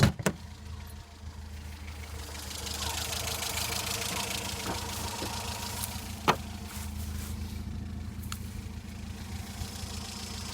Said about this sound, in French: Bon bah voilà, la voiture démarre enfin.